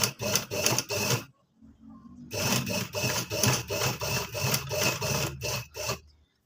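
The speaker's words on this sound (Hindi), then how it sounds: "अब आराम आराम से हम सिलाई लगाते जाएंगे।" A sewing machine stitches a patch onto fabric with a longer stitch length, whirring in steady rhythmic bursts, pausing briefly, then running on again close up.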